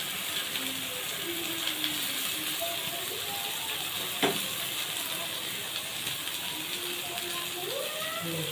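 Chicken shashlik skewers frying slowly in a pan over low heat, a soft continuous hiss and sizzle with a single sharp tap partway through and faint background tones, no speech.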